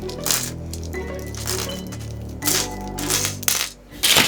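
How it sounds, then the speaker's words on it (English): Plastic pieces of a Rubik's cube click and clatter sharply as they are popped out during disassembly, several bright knocks and snaps over a low tonal background hum. "I guess I just pop out a piece, unscrew it, and it will become disassembled"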